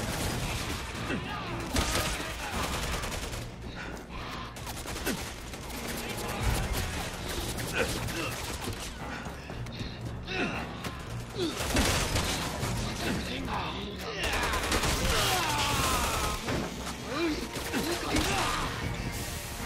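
Gunfire and crashing impacts in the action game Resident Evil 6, dense bursts of shots and clattering debris running throughout, mixed with music and voices talking over the combat.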